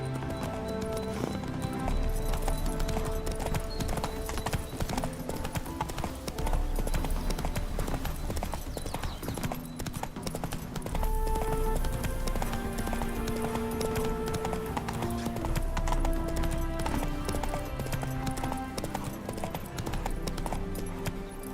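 Roach, Geralt's horse in The Witcher video game, gallops with rapid, rhythmic hoof clip-clops that carry on steadily throughout, loud and close, over a continuous bed of in-game music.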